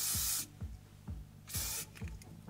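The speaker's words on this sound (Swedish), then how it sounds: "Det är bara att spraya." An aerosol spray can is fired in two bursts, the first lasting under half a second and the second longer. Each is a loud, close hiss, with soft knocks and handling sounds between them.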